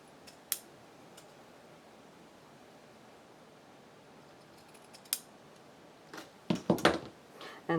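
Scissors snip through paper while making a birthday card: a few faint, sparse clicks in a quiet room, then a short cluster of sharper cuts near the end.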